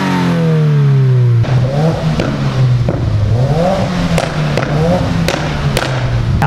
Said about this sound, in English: this WRX is equipped with an Nvidia N1 catback exhaust